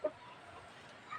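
Laying hens at their nest give a couple of short, soft clucks, one near the start and another near the end, over quiet farmyard background.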